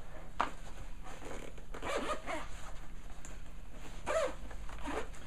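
A zipper is pulled closed on a solar-charging backpack, giving a few close, scratchy zips in short strokes.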